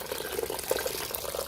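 Filtered rainwater poured over worm bedding for a worm bin, a steady close splashing and trickling that runs unbroken and fairly loud throughout.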